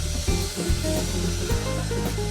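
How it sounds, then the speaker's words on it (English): A hair dryer blows a steady, close, continuous hiss across a chalk-painted restaurant table to dry the paint, with faint handling noises underneath. "after a quick blast with the hairdryer"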